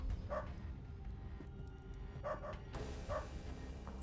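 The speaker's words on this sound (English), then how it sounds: "Dog!" A dog in the video game UnderRail barks several times in short, separate yaps, faint over low background ambience.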